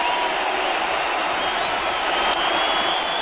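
A baseball crowd on its feet at Rogers Centre during a Rangers at Blue Jays game, a steady, dense roar of cheering and clapping that fills the space without a break.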